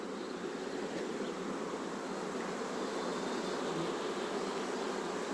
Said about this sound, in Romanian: Albine cu polen.